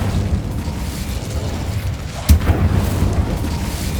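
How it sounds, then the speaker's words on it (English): Incendio fire spell cast in Hogwarts Legacy, a single sharp burst with a brief flaring whoosh about midway, set against a steady low game ambience. "Incendio."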